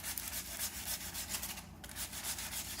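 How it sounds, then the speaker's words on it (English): Sandpaper scrubbing a motorcycle rim, a 2017 Venom X22 BD-125, in quick back-and-forth rasping strokes, close and continuous, with a brief pause near the middle. "Once the sandpaper starts to slide a lot, then you know you've got to refold your sandpaper"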